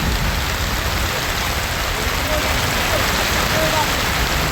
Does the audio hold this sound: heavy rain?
yes